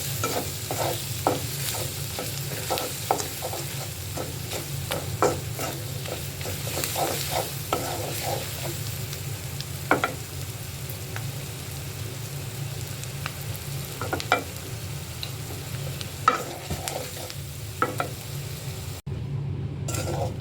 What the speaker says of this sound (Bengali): কিছুক্ষণ কষিয়ে আমি চিকেনগুলো দিয়ে দেবো